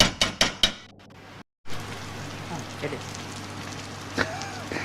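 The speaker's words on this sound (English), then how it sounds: "let that simmer a bit longer" Tomato sauce with fresh basil for a chicken parmy simmering in a pan, opening with a few sharp utensil clanks before a steady, soft bubbling hiss carries on close by.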